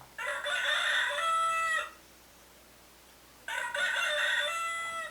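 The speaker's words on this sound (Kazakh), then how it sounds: "Қара, әтештің дауысы қандай?" A rooster crows twice, each a loud, drawn-out cock-a-doodle-doo about two seconds long, separated by a quiet gap, close by with no talking.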